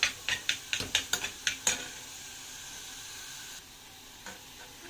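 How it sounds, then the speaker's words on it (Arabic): Minced meat sears in a hot pan without salt: a quick run of sharp spatula taps against the pan, then a steady, close frying sizzle that hisses on alone. "اللحمه المفرومه واحنا بنديها صدمه ما نحطلهاش ملح"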